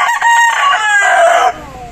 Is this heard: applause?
no